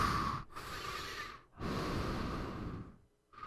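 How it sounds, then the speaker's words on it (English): Heavy breathing close to the microphone: slow, loud inhales and exhales in an uneven rhythm, with brief silent pauses between breaths and no speech. "Stop breathing, dude."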